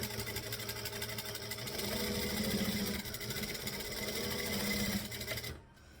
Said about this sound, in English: we can stitch along the bottom, and that will tack these down